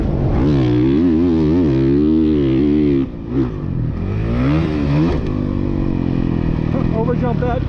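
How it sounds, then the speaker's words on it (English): A motocross motorcycle doing wheelies at a dirt track, its engine loud and close, revving up and down in repeated surges with a brief dip midway before climbing again. "Johnny Hopper doing some sick wheelies"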